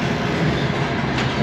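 A passenger train travels through Uzbekistan, heard from inside a carriage as a steady, deep rumbling roar of wheels and track, close and continuous with no voices.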